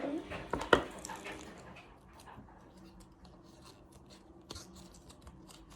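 A Mr Beast toy package is torn and rustled open up close, with a few sharp crinkles and scratches at the start, then quieter rubbing and handling under a faint background hum.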